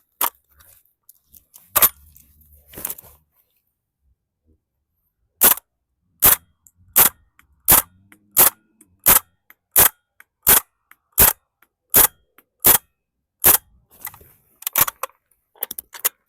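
A WE Airsoft MP5SD gas blowback rifle fires ten single shots at a target 25 meters away, sharp clean cracks spaced about a second apart, preceded and followed by scattered handling clicks.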